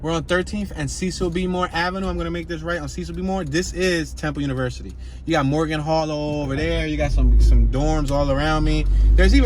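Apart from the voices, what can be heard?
None of the usual background noises is heard.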